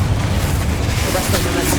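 Confringo blast spell in the video game Hogwarts Legacy, a loud deep booming rumble that holds steady for under two seconds.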